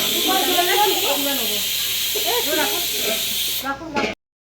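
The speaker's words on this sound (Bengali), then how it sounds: "এখানে বেগুন ভাজা চলছে" Eggplant frying in hot oil at a home festival meal, a loud continuous sizzle and hiss running under a voice speaking, cutting off abruptly at the end.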